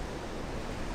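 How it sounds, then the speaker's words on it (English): Waves crash against rocks at the seashore on a windy day, a dense, loud, continuous roar of surf and spray with no pauses or talk. "as the waves are crashing in, there's like splashes coming up"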